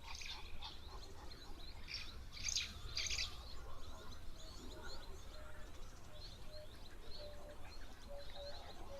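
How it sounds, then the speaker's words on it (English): House sparrows chirp faintly at a waterhole, a few brief high tweets standing out over quiet outdoor background and distant cooing. "Looks like we've got some house sparrows here."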